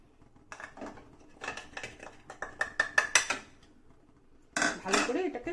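Curd being whisked with spices in a bowl, heard as a run of quick clinking metal-on-bowl strikes that speeds up, pauses, then resumes in a denser burst, close and fairly clear.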